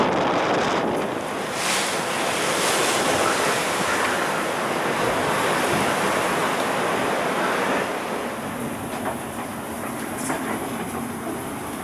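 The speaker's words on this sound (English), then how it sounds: "Big waves." Big ocean waves crash and rush past a sailboat at sea in force 10 winds, a loud, continuous roar of surf with heavy wind buffeting the microphone, easing slightly toward the end.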